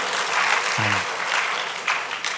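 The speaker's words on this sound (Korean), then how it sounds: "우리 박수로 격려하겠습니다" A church congregation at a Sunday service applauds after a scripture reading, giving a short, steady burst of clapping from many hands, with a brief low voice partway through.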